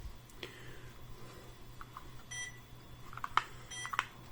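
Sparse electronic beeps and bleeps from an Intellivision video game, faint and scattered over a low steady hum, with short tones clustering toward the end.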